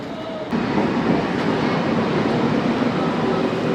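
A sky train in Malaysia rolls past close by, its steady rumbling roar starting abruptly and holding loud with a faint rhythmic clatter underneath.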